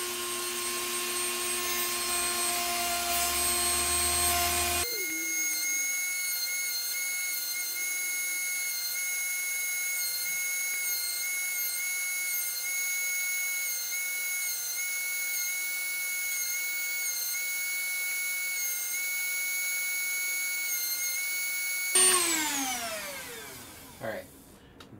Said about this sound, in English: let's start doing a little rough sanding and see if we can get some shape